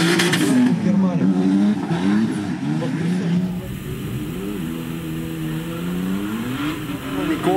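A turbocharged drift car at a SoDrift competition round revs hard through a corner, rising and falling engine pitch with squealing tyres and a rough, loud roar, while a commentator talks over it.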